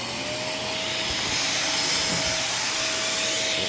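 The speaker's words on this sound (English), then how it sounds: "They love getting vacuumed." A vacuum cleaner roars steadily and loudly up close while grooming a Highland Lynx cat, with a constant whine throughout and no talking.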